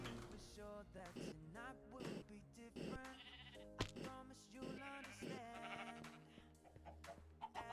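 Sheep in Minecraft bleat repeatedly, a string of wavering, nasal calls at a fairly even pace, soft and close, with a faint background bump and no talking.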